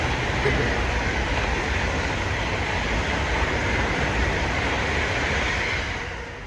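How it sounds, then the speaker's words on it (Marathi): A train rumbles past close by in London in a loud, continuous roar that eases off near the end. "थांबा ट्रेनला जाऊ द्या"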